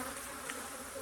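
Honey bees hum steadily around an open hive during an inspection, a continuous close buzzing drone with no voices.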